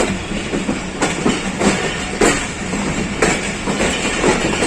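Pakistan Express passenger train running on rails between Faisalabad and Rawalpindi, with loud steady rumble and rhythmic clickety-clack of wheels over rail joints, heard from on board without talking.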